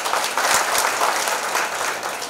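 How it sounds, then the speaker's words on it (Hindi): Audience at a public launch event for a tobacco-free autorickshaw and cancer screening camp for auto drivers, clapping in a dense, steady burst of applause, close and fairly loud, with no talk over it. "हमको पता था ताली बजने वाला।"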